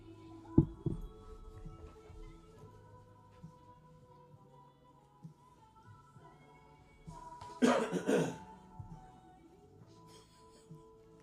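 A single sharp cough rings out near the mic, followed later by a louder burst of coughing or throat noise against a quiet humming background.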